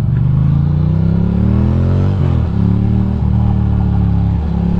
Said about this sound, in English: It's very gentle driving this morning.